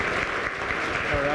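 Brief burst of steady audience applause for a start-up team at a university start-up competition finale, with a voice faintly audible over the clapping.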